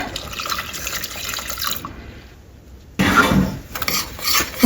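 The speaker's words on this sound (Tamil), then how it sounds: "இப்போ இதில் கொஞ்சமாக தண்ணி விடுவோம்" A trickle of water pours into urad dal porridge flour in a kitchen, a steady splashing that pauses for a moment and then returns louder and closer.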